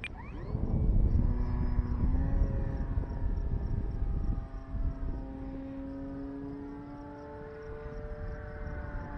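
An Avios Grand Tundra RC airplane running on a 6S battery whines overhead, its electric motor tone rising and falling in pitch as it flies, loud at first and then fading with distance.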